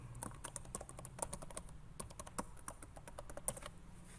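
Rapid, uneven keystrokes tap on a computer keyboard as a password is entered, a close, steady patter of clicks with a few louder presses, no voices.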